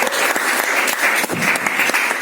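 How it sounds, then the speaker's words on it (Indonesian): Enthusiastic applause from the audience at a high school film competition judging in Kebumen, dense steady clapping with sharper individual claps throughout, close and unbroken. "Tepuk tangan sekali lagi"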